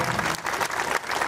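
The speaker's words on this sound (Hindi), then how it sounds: "आपके लिए जोरदार तालियां" Dense, steady applause from a crowd at an interfaith harmony gathering on a sports ground in Sasaram, loud and continuous with no talk over it.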